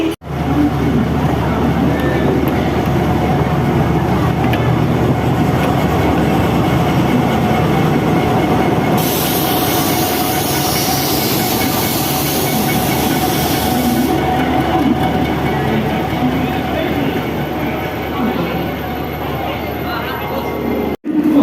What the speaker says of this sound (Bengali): গাইস ফাইনালি দেখো ট্রেন ঢুকে গেছে